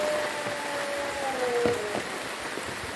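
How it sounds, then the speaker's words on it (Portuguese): Rain falls in a steady hiss with scattered drips and taps nearby, and a faint tonal whine drifts through the background. "Ele começou a chover de novo."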